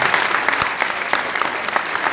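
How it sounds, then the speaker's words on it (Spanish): Applause from an audience at a chess gathering honoring a grandmaster, dense steady clapping filling the whole stretch at moderate loudness with no voices over it. "Si quieren le damos un fuerte aplauso"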